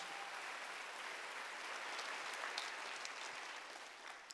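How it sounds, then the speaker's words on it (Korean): A church congregation at a Wednesday worship service gives sustained applause, a steady wash of many hands clapping heard from a distance, faint and even throughout. "박수로 하나 더 해주세요"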